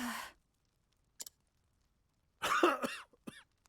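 An elderly father character in Octopath Traveler coughs in a few separate bursts, a short cough, a brief pause, then a heavier cluster of hacking coughs and a final small one, close and clear with no talk.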